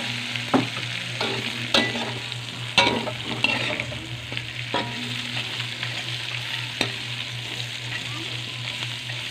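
Pork frying in a pan for humba, a steady loud sizzle with repeated scrapes and knocks of a utensil stirring the meat, close by and without talk.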